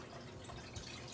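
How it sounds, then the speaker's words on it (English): Water is poured into a pot of chicken broth for noodle soup, giving a steady, continuous watery trickle and splash at close range, with no talk over it. "I'm putting some more, adding water to my broth."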